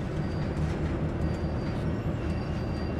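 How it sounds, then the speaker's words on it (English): Train Sim World 2020 locomotive easing up to couple onto a stationary train at about one mile per hour, giving a steady low rumble of rolling wheels and engine with no distinct clunk, no speech. "we're going to touch this train at about 1 mile per hour"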